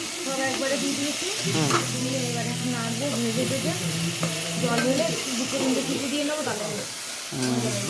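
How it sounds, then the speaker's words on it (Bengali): A potato curry sizzles and hisses steadily in a pan on the stove, with stirring sounds and women chatting close by over the frying. "এই দেখো তরকারি করে নিচ্ছে ও"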